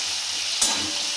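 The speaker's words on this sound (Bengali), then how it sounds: "দেখো পেঁয়াজটা ভাজা বসিয়ে দিলাম," Onion frying in a pan on a home stove before other vegetables are fried, a steady broad sizzle with a brief louder burst as it is stirred; no talking.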